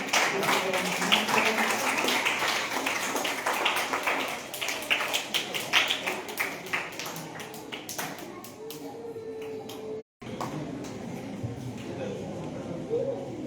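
An audience at a school felicitation ceremony at Siri Vidyalaya, Hootagalli, Mysuru, claps steadily in a dense patter that thins out, with a speaker talking over it.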